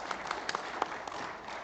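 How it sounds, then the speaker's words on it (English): A conference audience at MWC Kigali 2025 applauds the panelists after a session, giving faint, dense clapping with a few sharper individual claps standing out. "let's give our panelists a round of applause"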